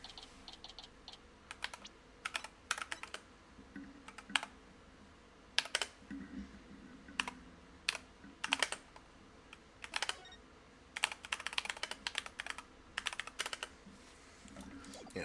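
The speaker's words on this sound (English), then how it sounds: "Yeah, typing that shit" Rapid, uneven clatter of typing on a computer keyboard, with bursts of sharp keystrokes and short pauses, close and clear with no talking, set in a courtroom lawyer game.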